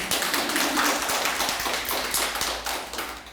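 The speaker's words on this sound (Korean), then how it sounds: "이럴 때 박수 치고 그래야지." A church congregation claps during a Korean sermon, several seconds of steady, fairly close hand clapping with a scattered, uneven rhythm and no talk over it.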